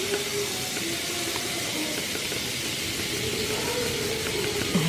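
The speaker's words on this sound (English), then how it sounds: "once it's really hot, you dump the shrimp in" Shrimp searing in very hot olive oil in a skillet, a steady broad sizzle and hiss that holds evenly throughout, close and fairly loud with no talking.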